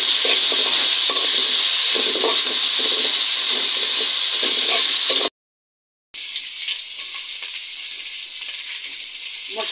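Ginger paste and chili powder fry in hot oil in a pan for beef trotter nehari, giving a loud steady sizzle and hiss that cuts out briefly, then resumes slightly softer.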